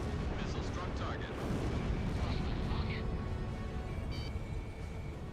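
Missile strike in the Ace Combat 6 jet combat game: a sustained rumbling, crackling blast of explosions and fire, dense and loud throughout, with faint radio chirps over the top.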